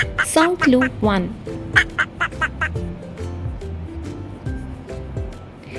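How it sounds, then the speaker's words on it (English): A duck quacks several times in a quick, loud, close series, then softer scattered quacks follow under a faint background, with a brief spoken phrase at the start. "Yes, you guessed it, a duck."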